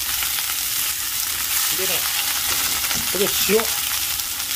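Bean sprouts hitting smoking-hot oil in a pan, sizzling loudly and steadily close by, with a brief spoken word and a few faint clatters partway through.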